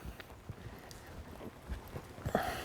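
A horse loping in a riding lesson, its hooves thudding in an uneven rolling beat at moderate distance over a soft ground, with a faint background and no speech.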